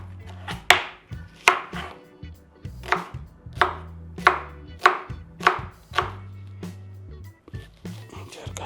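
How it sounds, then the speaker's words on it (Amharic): A knife chops onion on a board with about ten evenly spaced, crisp thuds close by, while a person talks quietly underneath. "ቀጣይ ስራችን የሚሆነው ሽንኩርት መክተፍ ነው።"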